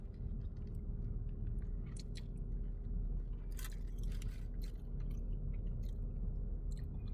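Someone chews a mouthful of breakfast burrito with tater tots and hot sauce, with close, steady wet chewing and occasional crunches over a constant low background rumble.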